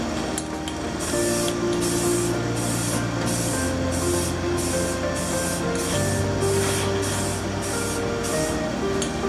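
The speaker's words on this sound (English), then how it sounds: "Let's clear coat it." Aerosol clear coat sprayed onto a car headlight housing: a loud, close, continuous hiss that pulses in regular bursts over a low background hum, with no speech.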